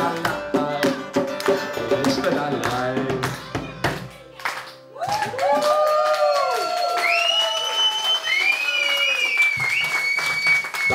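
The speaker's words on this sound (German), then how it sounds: "das ist dein Applaus" Audience applause and scattered clapping at an acoustic cover concert of a song, starting as the music ends and continuing steadily for several seconds, with voices rising over it.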